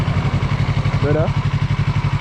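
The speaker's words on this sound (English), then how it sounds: "bike power noise" Yamaha MT03 motorcycle engine running with a steady pulsing idle throb and a brief rev-like rise midway, heard up close, with voices talking over it.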